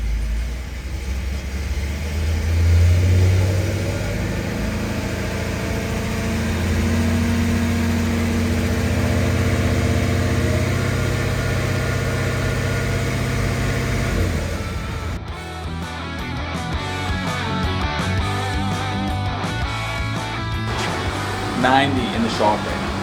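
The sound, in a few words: Cadillac CTS-V3 engine idling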